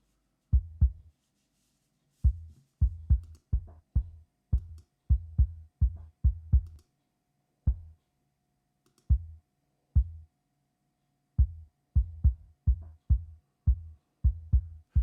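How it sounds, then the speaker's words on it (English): Isolated kick drum being mixed with stock plugins, its low end emphasised: short, deep thuds in irregular groove patterns with brief gaps between phrases, dry and fairly quiet with no other instruments or voices. "here I need only bottom from the kick"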